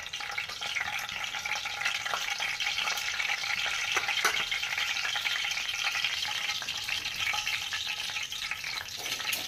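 Whole spices—bay leaf, three cloves, a small piece of cinnamon and peppercorns—frying in hot oil for a chickpea and dry fish curry, giving a steady close sizzle with light stirring throughout, no talking.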